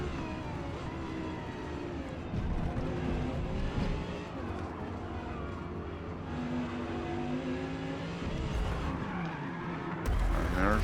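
An Audi R8 in Forza Motorsport at Yas Marina slides and skids, engine revving and tires squealing in long wavering bursts, with a voice talking throughout.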